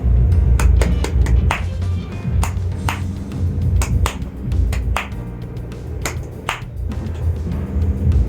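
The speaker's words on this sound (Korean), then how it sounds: "이거 한번 박수로 한번 쳐볼게" Sharp individual hand claps ring out in a rhythmic pattern during a vocal diction lesson, loud and close over a low rumbling background, with uneven spacing between the beats.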